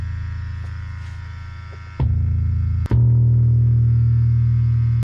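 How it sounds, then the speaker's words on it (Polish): Loud, steady hum with a hiss over it from a very noisy SansAmp distortion pedal. It drops out briefly around two seconds, then returns louder and continues without a break, with no voices. "To jest bardzo szumiący pedał."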